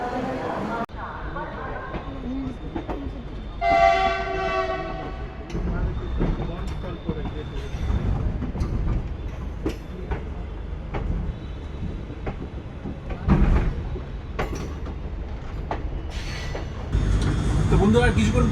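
An ICF AC first class coach on the Ballia–Sealdah Express rumbles out of Barauni Junction, a steady rolling drone with scattered clanks, a brief tonal sound and voices at times.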